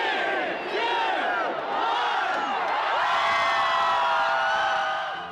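A huge, dense crowd of about 50,000 roars and cheers without a break in Portland's Pioneer Courthouse Square at the millennium ball drop, with whoops and shouts rising over the steady wall of voices.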